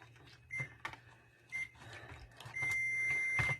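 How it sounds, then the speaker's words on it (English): A kitchen timer beeps several times in a home kitchen during dessert making, short tonal chirps spaced across the moment with faint room noise beneath. "the beeper just went off"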